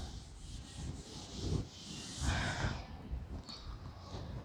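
Soft, continuous rubbing of chalk off a classroom blackboard, a low scraping wipe that swells in two strokes and then fades.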